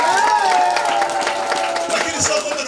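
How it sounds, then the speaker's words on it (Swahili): An audience at a church memorial service for a one-year ministry anniversary applauds steadily, a continuous wash of clapping under a speaking voice and crowd murmur. "Makofi."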